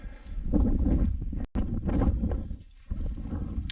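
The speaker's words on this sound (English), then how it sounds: "The wind is obviously like a northerly at the minute." A northerly wind buffets the microphone at a wild camp beside Haweswater, a loud, low, rumbling roar in steady gusts that briefly cuts out midway before surging again, with no voices.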